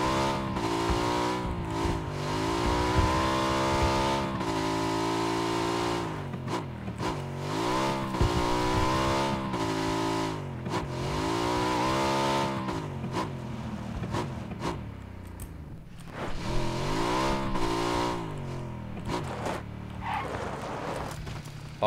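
A car engine in the battle-royale game PUBG revs hard again and again, climbing through the gears in long rising sweeps with brief dips between, loud and close throughout.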